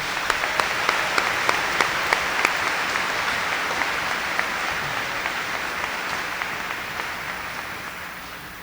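At a 2016 high school commencement, the audience gives a round of applause for the student speakers: sustained, full clapping from a large crowd with a few sharp individual claps up front, slowly tapering off.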